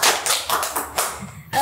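A handful of people clap briefly in a podcast studio, with about half a dozen close, separate claps in quick succession before stopping.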